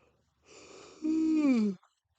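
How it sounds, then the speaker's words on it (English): A person yawns once, nearby and fairly quiet, the breathy intake swelling into a drawn-out voiced groan that falls in pitch before stopping abruptly. "Promise I'm not tired. I'm just yawning."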